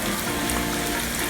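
Hot oil bubbles steadily while green plantain fries at medium heat, a continuous soft sizzling hiss with no voices.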